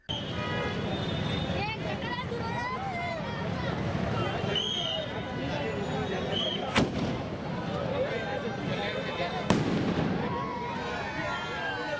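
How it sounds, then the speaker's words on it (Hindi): Two sharp fireworks bangs burst out several seconds apart over a crowd's murmuring chatter and people talking at a Guru Gobind Singh birth anniversary celebration. "शानदार आतिशबाजी का भी मुजाहरा किया गया"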